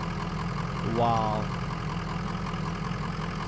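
A military tractor engine idles steadily in the mobile driving game US OffRoad Army Truck driver 2020, a constant mid-low drone with a brief voice exclaiming over it.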